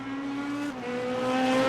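A GT3 race car sweeps through a left-hand turn at St. Petersburg, its engine a sustained tonal drone that drops in pitch briefly then climbs steadily as it accelerates out, loud and close.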